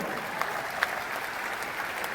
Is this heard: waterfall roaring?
no